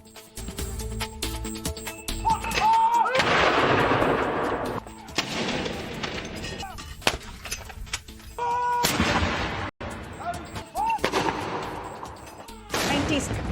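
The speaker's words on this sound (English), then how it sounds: "Gun salute for Queen Elizabeth to mark each year of her life." Artillery guns fire a royal salute for Queen Elizabeth, several loud booming blasts spaced apart, each followed by a long rolling echo, set against open outdoor ambience.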